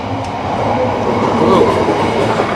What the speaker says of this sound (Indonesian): bisa melihat KLB angkutan batu balas melintas langsung di stasiun Jatibarang